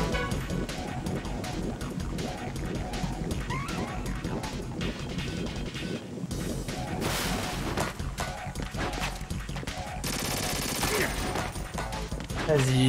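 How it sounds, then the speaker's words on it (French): Enemy gunfire sprayed at the ceiling in Metal Gear Solid 2, a dense, continuous barrage of rapid shots with crashing impacts, steady and loud throughout, with faint game sounds beneath. "Mais pourquoi quand je me retourne il tire au plafond?"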